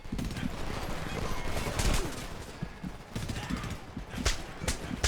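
Machine gun fire in the war shooter Homefront rattles in sustained, fast bursts with sharp louder cracks scattered throughout, close and intense, with speech mixed in underneath.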